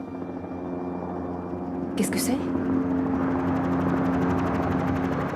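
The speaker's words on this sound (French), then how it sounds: "Un hélicoptère. Il s'en va." A steady mechanical rotor drone fills the background, under a brief spoken question and a burst of noise.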